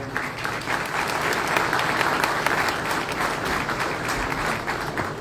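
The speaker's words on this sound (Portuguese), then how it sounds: "Uma salva de palmas, por gentileza" A crowd applauds steadily, a dense wash of clapping hands sustained for several seconds at an even, fairly loud level.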